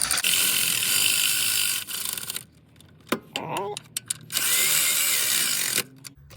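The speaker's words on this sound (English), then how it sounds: "Let's go ahead and put these nuts back on." Ratchet wrench clicking as nuts are threaded back on a CV axle of a Ford Escape during axle replacement, with steady close clicking runs broken by pauses, a few sharp metallic clinks and brief handling noises.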